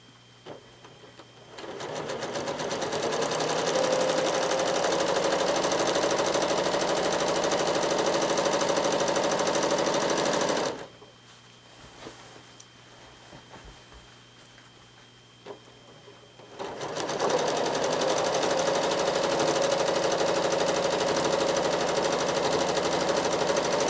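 A sewing machine doing free-motion quilting around a central shape, a fast, steady mechanical whirring that runs, stops for several seconds of near quiet, then starts again, close and without talk.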